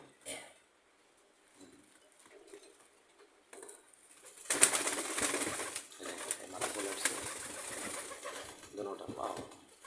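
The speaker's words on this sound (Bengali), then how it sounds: "আমার কবুতর দেখো" Pet pigeons coo and rustle close by, soft at first and then busier, with wing flaps, pattering feet and a person talking over them.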